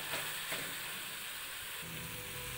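Spiced pea curry (ghugni) sautéing in a pan with a splash of water, a steady soft sizzle with a faint stir or two, close and continuous with no talking.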